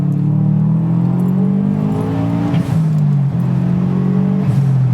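A Subaru WRX STi bug eye with a JDM EJ207 engine, set up as a rally-style car, revs steadily with a strong low droning note that rises and dips slightly, loud and close throughout, with no talk.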